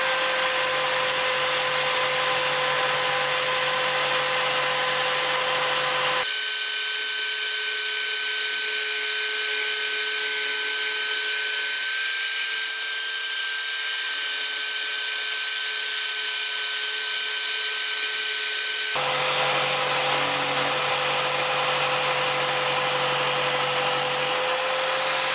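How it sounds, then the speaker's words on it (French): A Parkside jigsaw mounted on a PSST A1 jigsaw table cutting wood, a steady loud whine with a constant buzzing tone, its pitch shifting as the blade loads and unloads through the cut, no talking. "La scie sauteuse, je l'ai positionnée vraiment très rapidement."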